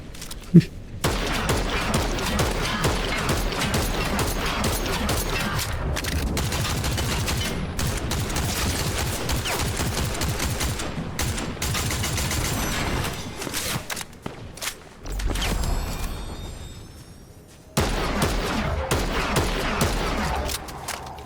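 Sustained Fortnite gunfire: dense, rapid bursts of shots and booms run almost nonstop, briefly thinning out before the shooting picks back up.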